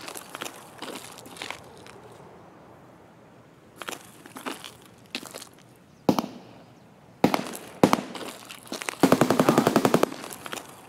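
A sniper scav fires on the Customs map during a solo Escape from Tarkov raid: scattered sharp gunshots, then a few louder cracks, ending in a rapid burst of automatic fire, with no talking.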